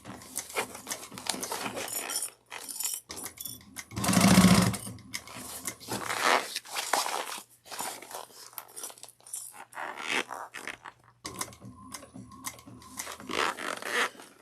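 A sewing machine stitches a fabric train case in short, intermittent bursts of whirring mechanical running, with one louder, denser burst midway and quiet pauses between runs.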